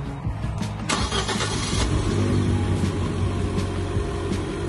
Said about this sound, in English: Okay, so I put my sequence in. The car starts.